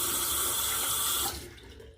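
Water running from a bathroom tap into a sink as a face is wetted, a steady close splashing hiss that cuts off abruptly partway through and fades into quiet.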